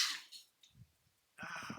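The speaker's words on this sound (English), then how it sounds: "Oh, I have to sneeze." A person gives a single loud sneeze, with a sharp burst at the start, a pause with faint breathing, then a second noisy exhale.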